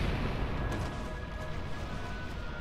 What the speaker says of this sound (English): All right, load the cannon.